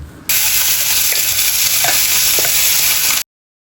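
Boiled broccoli, carrot and potato are stirred into sautéed peppers in a hot pan, giving a steady loud sizzle with a few faint scraping clicks of the spoon, no voices.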